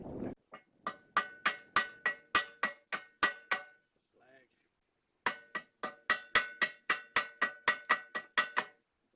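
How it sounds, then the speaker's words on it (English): Sharp metallic hammer strikes chipping slag off a weld, in two quick rapid runs, ringing clinks on metal with a short pause between bursts, close and loud. "Bashing the slag off so that we've got clean metal to weld to for the next strip"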